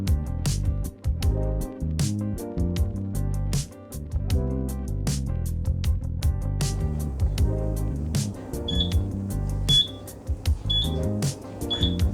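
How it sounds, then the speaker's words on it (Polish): A series of high, evenly spaced electronic beeps sounds from an oven timer, four tones about a second apart, over a steady musical background. "Piekarnik daje sygnał, czyli czas zajrzeć do niego."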